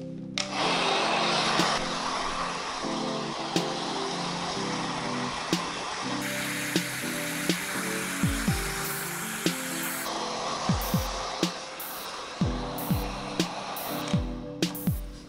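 A hair dryer runs steadily throughout, drying hair while the scalp is rubbed and the fringe is lifted for a swept-back style, with a constant airy whoosh and shifting tones as it moves near the head.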